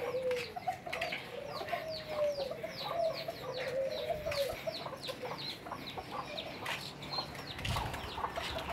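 Chickens and chicks cluck softly and chirp amid outdoor ambience, with scattered small peeps and a brief flutter, at moderate distance.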